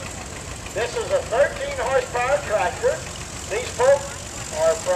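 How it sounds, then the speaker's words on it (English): A 1937 Inco Power Horse 13 horsepower tractor engine runs with a steady low chugging idle under a voice talking over it. "This is a 13 horsepower tractor."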